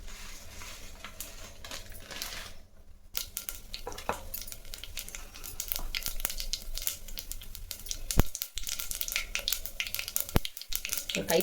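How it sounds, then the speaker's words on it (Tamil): Mustard seeds sizzle and crackle in hot oil in a pan, a steady close frying hiss dotted with small pops and light clinks of utensils, with no voice over it. "எண்ணெய் காஞ்சிடுச்சு. கடுகு போட்டுக்கலாம்."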